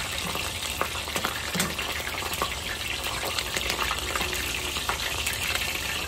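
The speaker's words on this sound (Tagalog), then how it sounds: "Ayan po, isda ang ating pinirito, oh." Fish frying in hot oil crackles and sizzles steadily with dense spattering pops, loud and close throughout with no talking.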